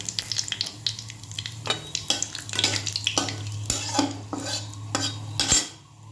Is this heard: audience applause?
no